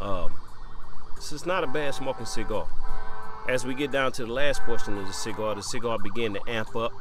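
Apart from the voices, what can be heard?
emergency vehicle sirens outside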